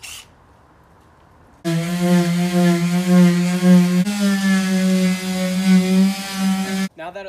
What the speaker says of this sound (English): so we gotta sand it down first